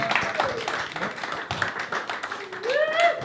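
A comedy club audience claps and cheers between acts, scattered hand claps mixing with crowd voices and a rising whoop near the end, fairly close and steady.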